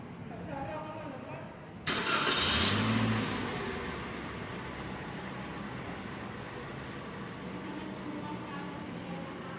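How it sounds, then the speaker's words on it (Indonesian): A car engine cranks and starts after a quiet moment, catching with a loud surge and then settling into a steady idle during emission diagnosis with the air flow sensor unplugged; someone talks over it. "kita nyalakan mesin."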